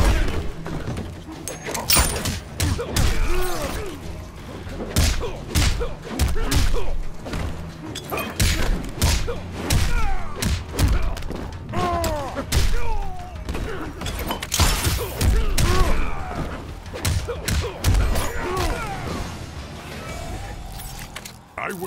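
Fighting blows in Mortal Kombat X, a fast run of loud thuds, cracks and smashes through a close-range brawl, with a voice heard along with the impacts.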